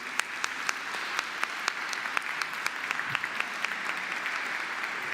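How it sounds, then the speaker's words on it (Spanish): An audience at a panel on drugs and human rights gives a sustained round of applause for a colleague, a dense, steady patter of many hands clapping throughout with sharper individual claps standing out. "yo quiero pedir un fuerte aplauso para una compañera que hizo muchísimo para que esto suceda, María Santos"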